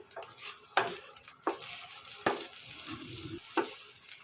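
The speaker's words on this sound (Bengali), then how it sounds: "ছোট ছোট চিংড়ি মাছগুলি আজ ভর্তা হবে, তো ভর্তার জন্য আসলে টেলে নিচ্ছি।" Small shrimp dry-roast in a pan for a Bengali bharta, with steady close sizzling broken by several sharp scraping stirs of a spatula against the pan.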